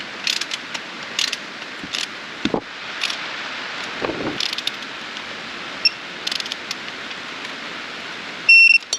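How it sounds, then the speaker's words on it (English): A ratchet torques the transmission fill bolt on a Nissan R33 GT-R, giving rapid, close metallic clicking in repeated bursts. A few brief knocks and a short tonal beep come near the end. "I'm going to put it in hand tight and then torque it down."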